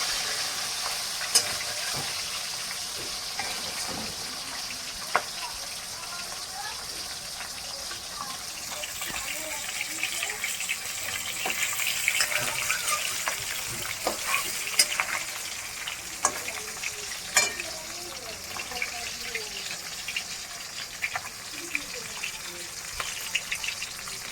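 Fish sizzling in a pan with steady crackling frying noise, punctuated by occasional stirring clicks and a faint trickle of water; a voice speaks briefly at times beneath the sizzle.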